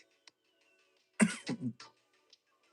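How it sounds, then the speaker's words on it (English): A short burst of two or three dry coughs from someone nearby, with a quiet room before and after. "I'm coughing."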